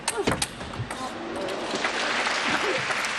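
A crowd applauds a shot at a women's doubles table tennis match at Singapore Smash 2025, with a burst of clapping that settles into sustained applause while a voice speaks over it.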